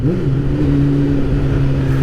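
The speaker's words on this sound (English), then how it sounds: "The engine sound of this bike is absolutely sensational. I love the note that this bike makes." A 1999 Kawasaki ZZR 600 motorcycle engine revving up, a loud close steady tone rising in pitch as the throttle opens, heard alone with no talk.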